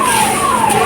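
A fire brigade siren wails loud and near as the crew arrives at a car burning after a short circuit in Ghaziabad. One sustained tone slowly falls in pitch.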